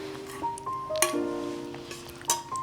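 Glasses clink and ring lightly as water is served at home, with several bright, separate chimes and a few soft knocks scattered across a quiet room.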